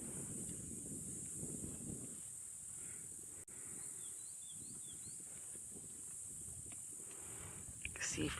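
A steady, high insect drone of spring cicadas runs without a break across a quiet rural landscape, over a low outdoor rumble with a few faint, brief chirps.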